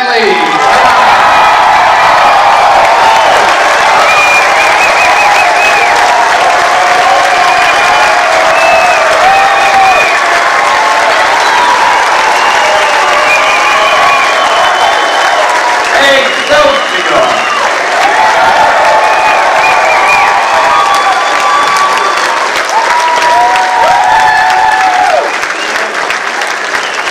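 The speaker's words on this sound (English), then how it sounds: "With a show of applause, let's welcome Stan the Man" Audience at a Stan Lee panel breaks into loud, sustained applause with cheers and whoops, a dense crowd roar lasting throughout with some voices mixed in.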